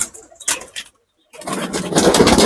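Pigeons in a loft cooing in short bursts nearby, broken by a brief silent gap before denser bird sound resumes with a rougher background.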